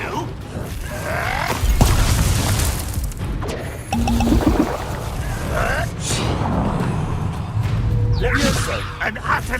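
Fiery Confringo spell blasts in Hogwarts Legacy combat, bursts and crashes mixed with clanking effects, heard under shouted spell names and taunting voices.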